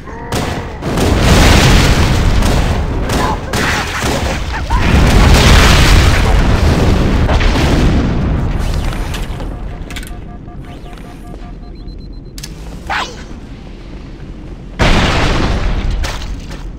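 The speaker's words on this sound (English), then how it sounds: "They both exploded." Explosions in the Halo: Combat Evolved video game, with repeated heavy booms and bursts at varying loudness amid game sound effects, followed by quieter stretches and a final loud blast.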